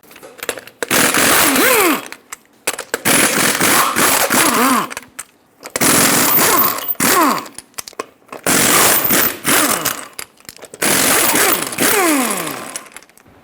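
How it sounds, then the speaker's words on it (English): Impact wrench with a 22mm socket spinning off lug nuts on a 1999-2025 Ford E-350 wheel, heard as five loud, close bursts of buzzing, rising and falling whine separated by short pauses. "Use a 22mm socket to remove all 8 lug nuts and then pull the wheel off"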